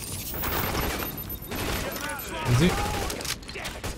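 Heavy bursts of gunfire in The Division during a fight at the Queens Tunnel camp, rapid overlapping shots rattling on, with a short voice speaking over them.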